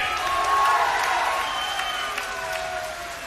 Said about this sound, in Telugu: అవునంటే గట్టిగా చప్పట్లు కూడా చెప్పండి